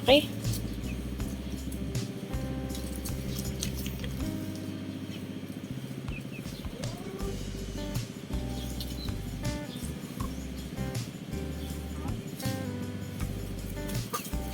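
Rhode Island Red and native chickens, about three months old, cluck and chatter close by over a low, steady background rumble, with occasional sharper calls scattered throughout.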